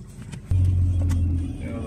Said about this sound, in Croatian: Slušajte, samo taj zvuk krepalog motora